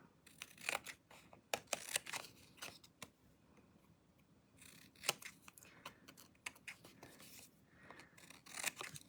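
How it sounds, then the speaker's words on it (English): Scissors snip through paper in a run of crisp, quiet cuts, irregular in rhythm, close up with no talking. "we are going to trim with our scissors around the outside of that white square"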